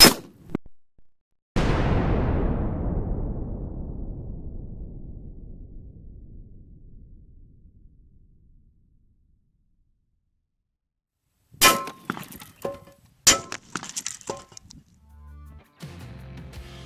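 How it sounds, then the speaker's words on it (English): A .308 black tip armor-piercing round fired outdoors at a half-inch AR500 steel plate, a sharp crack then a long ringing clang that fades over several seconds, followed later by a cluster of clattering metallic knocks and rattles. "So now we're gonna step it up and try the black tip armor piercing round."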